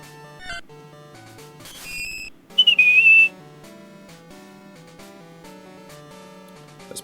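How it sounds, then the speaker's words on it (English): A Pokémon cry from Pokémon Crystal rings out once, a short shrill whistle-like tone over looping chiptune game music that continues around it. "I like its cry. It sounds like a gym teacher whistle."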